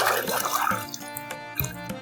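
Water splashes and drips while a dirty toy reindeer is washed, with short bursts of running liquid and light clatter close by.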